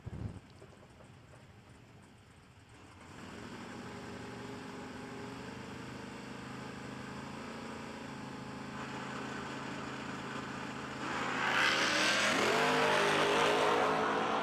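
Drag racing cars at a no-delay bracket event roar off the line and down the strip, the engine noise swelling into a loud sustained howl that grows stronger toward the end, with no talk heard.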